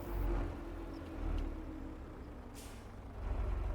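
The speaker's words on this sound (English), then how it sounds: "Again, brakes." Truck air brakes in the Farming Simulator 25 game hiss softly over a steady low engine rumble, with a brief sharper release of air near the end, faint and alone without talk.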